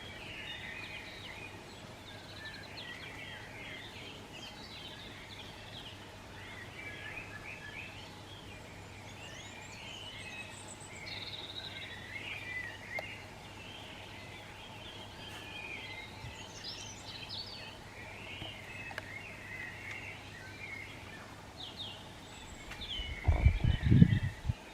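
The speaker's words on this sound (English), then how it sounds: "Every morning's the same, full of birdsong," Morning birdsong carries from a distance, faint scattered chirps and trills over a steady background hum, with a close rumbling knock near the end.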